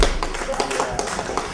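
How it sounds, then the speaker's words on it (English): Audience applause at a 2008 debate on Iraq, a brief spatter of quick claps heard close up, with spoken voices overlapping the clapping. "Boy, you get applause for that."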